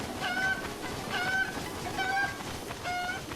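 A cucco chicken in The Legend of Zelda: Breath of the Wild, clucking in four short honking bursts at an even pace over a busy game background, fairly near and moderately loud.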